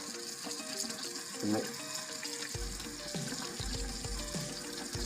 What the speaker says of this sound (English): This is a new tube. I just want to rinse it out.